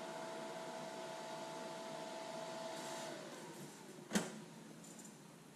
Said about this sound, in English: there you can hear the on-demand fan just kick down